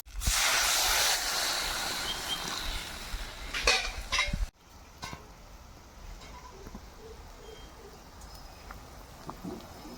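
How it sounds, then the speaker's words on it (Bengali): Broth is poured onto fried masala in a hot pan for a rohu-style mrigal fish curry with potatoes, giving a loud sizzling hiss that cuts off abruptly, followed by quieter simmering with light clinks. "এবার ঝোল দিয়ে দেব।"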